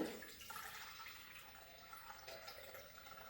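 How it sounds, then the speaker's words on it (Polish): Water streams steadily into a Thermomix mixing bowl, a continuous splashing pour that stays even and fairly close throughout with no talking. "I teraz dodajemy tu wodę. 600 gramów wody."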